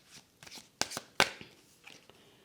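Tarot cards handled and laid down on a table during a reading, giving a few soft shuffling rustles followed by two sharp, close slaps as cards are placed, then quieter light rustling.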